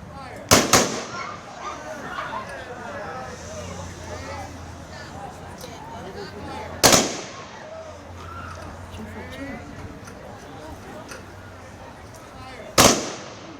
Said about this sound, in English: we'll now have a rifle salute by American Legion Post 328